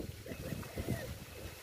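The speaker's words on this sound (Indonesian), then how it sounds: "Wih, angin kencang ini teman-teman." Strong wind blows outdoors, roaring and buffeting the microphone in low gusts with a faint voice underneath.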